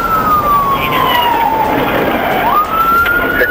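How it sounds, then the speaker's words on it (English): A police car siren wails loudly and close during a high-speed dashcam chase, its pitch sweeping down and then rising again over road and engine noise. "When the police turned on the sirens and lights, the suspect immediately took off."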